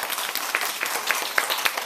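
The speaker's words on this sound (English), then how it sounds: "can we welcome him with a little applause?" A room of first graders applauding a guest, a dense patter of small-handed claps filling the full two seconds at a steady, moderate level with no talk.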